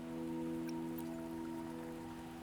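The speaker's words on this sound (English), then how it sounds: "Don't worry, the rain won't last much longer." Steady rain falls in the Wuthering Waves game world, a continuous soft patter with faint hum-like tones beneath, even in level throughout.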